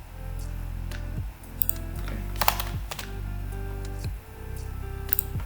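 Java code being typed on a computer keyboard: rapid, steady key clicks with occasional louder taps, close and clear over a low constant hum, no talking.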